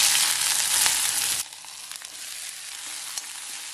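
Ginger and green chilies sauté in a pan with a steady, close sizzle that is loud at first, then drops to a softer frying hiss with a few light clicks.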